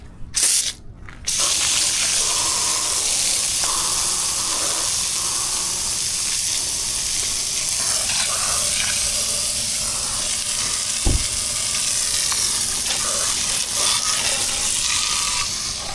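Pressurized water rushes through a pipe as a steady, loud hiss that starts after a couple of brief bursts and runs on unbroken, with a short knock partway through.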